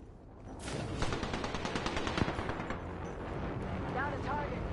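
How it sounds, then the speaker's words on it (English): In the Season 5 Apex Legends battle royale game, rapid gunfire crackles in a continuous stream of shots with heavy booming bass. Game character voice lines can be heard over it. "In combat, shots fired at me."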